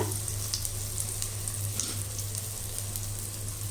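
Mysore bonda deep-frying in hot oil, a steady close sizzle with fine bubbling crackles, alone and unbroken throughout.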